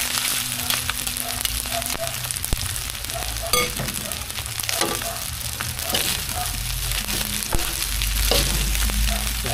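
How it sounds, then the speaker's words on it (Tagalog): Leftover chao fan fried rice sizzles steadily in a pan while being stirred, with frequent light scrapes and clicks of the utensil close by. "Dahan-dahan lang ang paghalo hanggang sa mahalo ang lahat."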